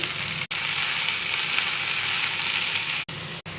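Spinach goes into a hot pan of onions, ginger paste and spices and sizzles steadily and loudly for several seconds, with two brief cut-outs and no talking.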